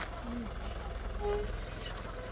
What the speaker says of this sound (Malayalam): ലോറി തിരിച്ചിട്ട് പോവാട്ട നമുക്ക്